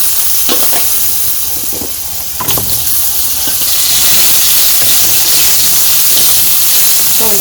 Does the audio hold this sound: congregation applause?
no